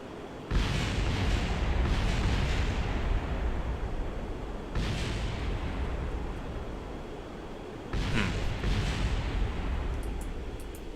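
Rumbling explosions from a spacecraft in Kerbal Space Program, coming in three broad, roaring bursts around a steady loud wash of noise, like a sustained blast that swells and fades with no voices.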